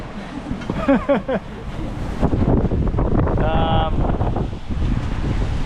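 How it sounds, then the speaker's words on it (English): Strong wind buffeting a sailboat under a reefed mainsail at sea, heard as steady loud roaring gusts against the microphone, with a voice talking over it. "This is definitely the strongest wind we've had so far on Yama."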